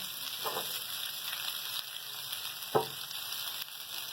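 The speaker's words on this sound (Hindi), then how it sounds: "बस इसको 5 मिनट तक हम फ्राई करेंगे" Chopped bhindi (okra) frying in a large frying pan gives a steady close sizzle throughout, broken by a soft stir around the half-second mark and a sharper scrape or clink near the end.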